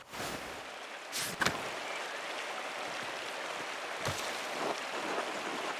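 Waterfall in the video game Pentiment, a soft continuous rush of falling water heard at low level, with a few brief sharp transients breaking through the steady hiss.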